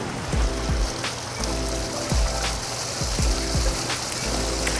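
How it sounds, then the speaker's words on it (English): A backyard waterfall flows over natural stone in a steady, splashing wash of water with soft recurring low thumps, close and continuous with no voices. "Waterfalls can add a really unique space for your backyard, not only for the looks, but also for the sound they provide."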